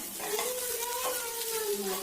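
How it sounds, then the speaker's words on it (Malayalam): Grated potato and curry leaves stirred in a pan, a continuous soft sizzle with spoon scraping, close and steady, with a faint voice in the background. "ഇനി ഇത് നന്നായി മിക്സ് ചെയ്തെടുക്കണം"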